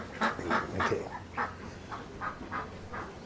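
Cayuga ducks at a bird park in Trichy quack repeatedly, about eight nasal calls in an irregular rhythm, nearby and moderately loud, the later ones softer, over low background noise.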